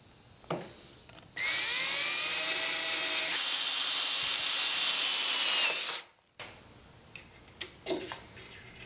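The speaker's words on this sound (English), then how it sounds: "it was time to drill the pinholes in the handle" A power drill whines steadily for several seconds, loud and close, drilling pinholes in a knife handle, then stops, followed by a few faint clicks and knocks.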